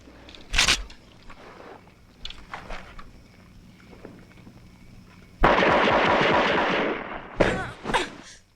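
Action-film gunfire and bazooka blasts: sharp isolated shots early, then a long roaring burst of explosion and rapid fire, followed by more loud bangs, with faint footsteps and movement between.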